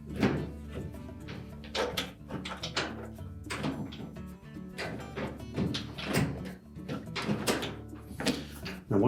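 Whirlpool dryer door hinges are pushed into slotted openings on the cabinet, producing a run of close hollow thunks, metal clacks and scraping knocks in an irregular rhythm.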